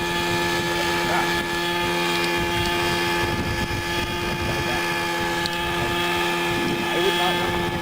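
Autonomous helicopter hovering during a flight demonstration, a steady loud rotor and engine drone with constant low thumping, heard with talking over it.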